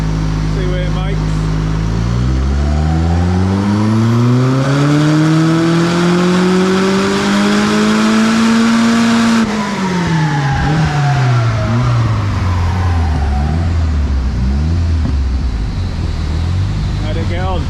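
Turbocharged Ford Fiesta RS fitted with a Focus RS engine revs hard through a dyno power run with the wastegate duty removed, a loud rising engine note climbing steadily, peaking, then falling back as it winds down.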